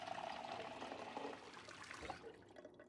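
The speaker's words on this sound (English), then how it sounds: "Move next to the sink and right click to fill the bottle." Water runs from a sink tap into a bottle in the Project Zomboid video game, a soft, steady splashing that continues for a couple of seconds, then stops abruptly and leaves a faint trickle.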